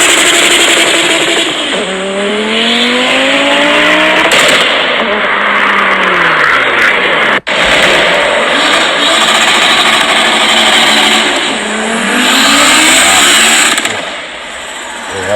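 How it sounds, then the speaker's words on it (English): An older Audi S4 launching hard, the engine roaring loudly as its pitch climbs through gears with turbo spool and whine, close and continuous with no talking. "Yeah, that's a lot of turbo spool and a lot of power."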